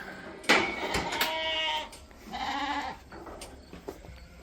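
Lambs and ewes bleating on a sheep farm during weaning sorting, several loud, close calls overlapping in quick succession, with a few faint clanks between them.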